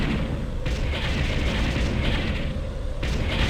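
An enemy structure blows apart in the real-time strategy game Ground Control, a dense, sustained rumbling roar of explosions and debris that stays loud throughout.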